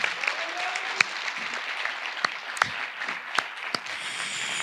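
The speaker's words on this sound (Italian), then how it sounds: "Un applauso anche a Ronny." Applause from an audience at an Italian-language community event with an invited mayor, a steady wash of clapping with a few sharp individual claps standing out, moderately loud and sustained throughout.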